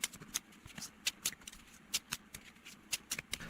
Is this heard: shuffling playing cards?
yes